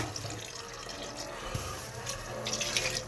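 Water poured from a container into another vessel, a steady soft trickling and splashing running throughout at moderate level with light background hiss, no talking.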